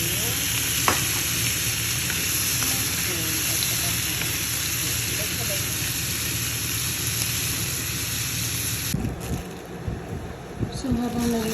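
Food frying in a pan during home cooking for lunch, a steady close sizzle with occasional stirring clinks, then clattering handling sounds near the end.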